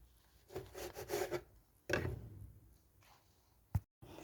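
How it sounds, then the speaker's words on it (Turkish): Knife slicing through rolled homemade erişte noodle dough on a board, a few rough scraping strokes in short bursts separated by quiet gaps, close and fairly soft. "Eriştemi böyle kestim sevgili arkadaşlar"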